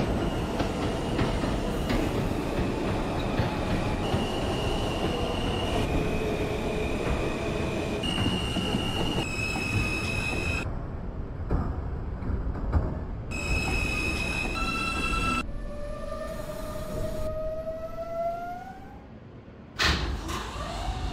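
An R160 subway train on the M line in OpenBVE runs with a steady loud rumble and clatter of wheels on rails, its motors whining in rising and falling tones as it moves, with no talk.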